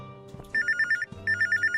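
A telephone rings in the video game I Am Here, giving two loud, close bursts of rapid trilling electronic ring tones separated by a short pause, over soft background music.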